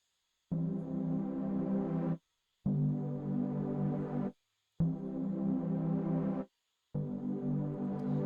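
Four sustained distorted synth chords, each held about two seconds with short silent gaps between, thick and buzzy with no voices.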